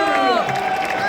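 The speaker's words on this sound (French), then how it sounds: "on peut applaudir très fort" A crowd at a Tour de France time-trial ceremony in Caen cheers and applauds loudly in a dense, continuous wash, with voices shouting over the clapping.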